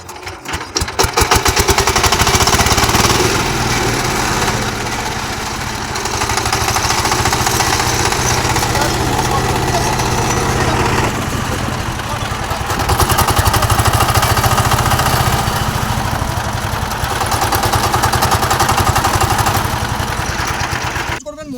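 15 HP power tiller's diesel engine running close up, a loud rapid chugging that swells and dips slightly over about twenty seconds, steady with no talking.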